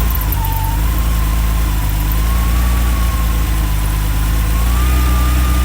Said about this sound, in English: the second start of the day for the purposes of our car review video